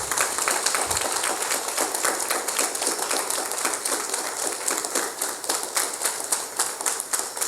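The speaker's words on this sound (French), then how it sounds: "Le prix à payer, c'est d'applaudir pour moi." An audience at an educational concert gives sustained applause, a dense, lively crowd of many hands clapping steadily and fairly loud throughout, with no talk.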